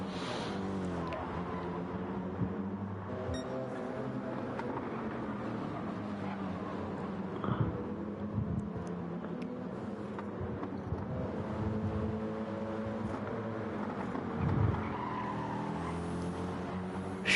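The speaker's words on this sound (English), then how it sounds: "Ooh, pushing his car to the limit is Grasshopper at the moment." Race car engines drone steadily at Brands Hatch in a racing video game, a continuous dense motor roar with shifting pitch and occasional passes, lasting throughout at moderate level.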